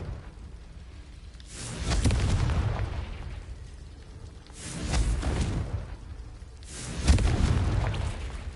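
Confringo blasting spells explode in the video game Hogwarts Legacy, giving three moderate booming bursts with whooshing tails spaced a few seconds apart over a low ambient background.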